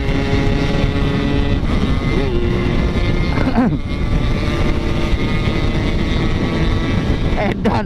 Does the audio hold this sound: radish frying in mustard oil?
no